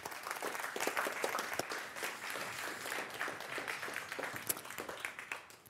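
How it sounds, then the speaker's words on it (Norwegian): Steady applause from a lecture audience welcoming a speaker before a talk on ocean phytoplankton, many hands clapping continuously at moderate distance for several seconds, with no talking. "Gi henne en fantastisk applaus"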